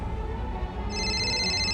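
A telephone rings with a sharp electronic trill that starts partway through over a low background hum, close and steady.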